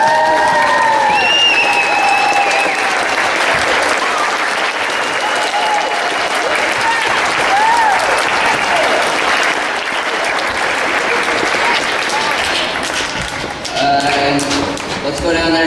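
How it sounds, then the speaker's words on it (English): A school assembly stands and gives the football coach a loud, sustained round of applause before a state championship game, with dense clapping, scattered cheers and whistles, and shuffling and thumps from the crowd throughout. "So why don't you guys stand up and give him a round of applause."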